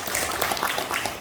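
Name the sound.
audience applause welcoming a discussant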